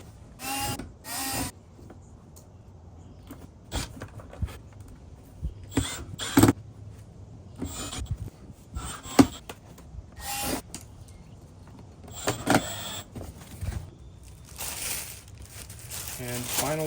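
A screw driven through a flexible plastic fender flare on a golf cart, heard as close clicks, creaks and short whirring bursts scattered between pauses.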